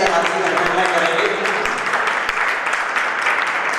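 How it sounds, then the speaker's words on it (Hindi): An audience at a workshop gathering applauds steadily and loudly without pause, a continuous wash of clapping that stays even from start to finish. "सभी लोग तालियां बजा करके हाथी में करेंगे"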